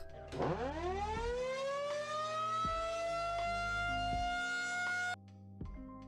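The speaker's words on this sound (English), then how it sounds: "they bought a tornado siren on the internet and loves to show it off" A loud tornado siren rises in pitch, holds a steady wailing tone for several seconds, then cuts off abruptly, leaving a faint low hum.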